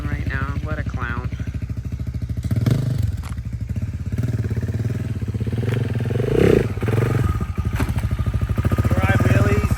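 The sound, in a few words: 2024 KTM 690 SMC R motorcycle riding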